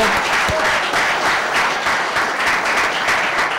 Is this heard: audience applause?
yes